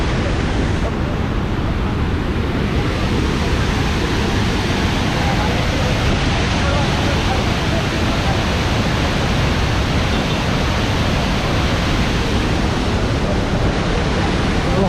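Waterfall in North Sikkim gushing hard during rain, a dense unbroken roar of rushing water filling the whole clip at steady loudness.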